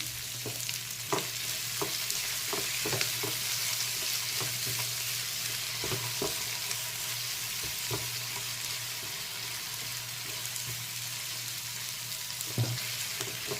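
Tomatoes with a little salt fry and simmer in a pan, a steady soft sizzle broken by scattered ticks and pops, close and moderate in level, with no talk.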